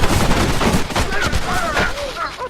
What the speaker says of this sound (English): Stepping into the open to face his fate, John draws, fires his final shots,